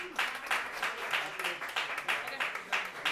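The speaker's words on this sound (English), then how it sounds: "Give him a round of applause." An audience at a speakeasy jazz night applauds a drummer in pulsing bursts of clapping, with voices mixed in beneath the sound.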